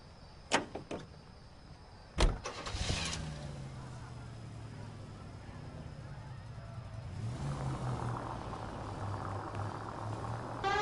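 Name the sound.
car engine driving in video game L.A. Noire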